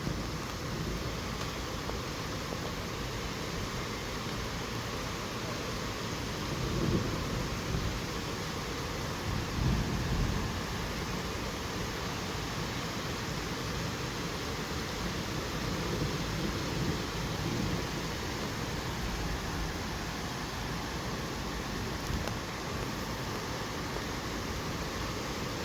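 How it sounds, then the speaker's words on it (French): Dense, continuous roar of an approaching hailstorm during a supercell thunderstorm near Bordeaux, with low rumbles of thunder beneath the broadband wash; distant but sustained, with no talk. "Le bruit de la grêle qui approche. C'est terrifiant."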